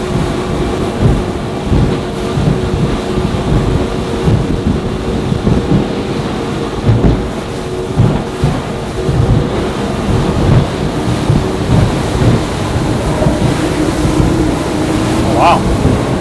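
A Projekt Boatworks 39 aluminum boat pounds through waves, with a dense rushing roar of hull, spray and wind and a steady engine drone, loud and continuous with repeated thumps of impacts.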